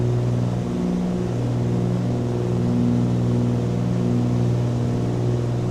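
Twin-prop aircraft engines in Microsoft Flight Simulator 2024 drone with a loud, steady low hum and layered harmonic tones, holding constant throughout with no talk.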